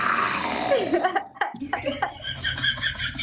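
A person's voice imitates a lion's roar with a drawn-out, falling growl, followed by breathy, chuckling vocal sounds close to the microphone.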